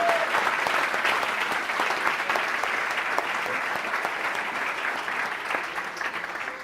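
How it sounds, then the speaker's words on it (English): Dense, sustained applause from a large audience at a general assembly, steady throughout and easing off a little toward the end. "please give a round of applause for our amazing GA Orga team"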